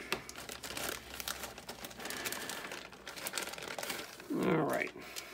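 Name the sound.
plastic packaging of a model car kit being opened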